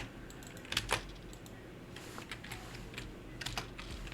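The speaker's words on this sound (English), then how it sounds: "I will type right eventually." Computer keys clatter in short irregular bursts, close but fairly quiet, with pauses between them. No one speaks.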